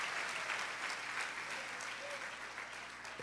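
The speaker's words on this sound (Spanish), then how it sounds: "Dale ese aplauso a la gloria de Dios." A church congregation applauding during a sermon, a continuous wash of clapping heard from some distance, fairly faint and even throughout.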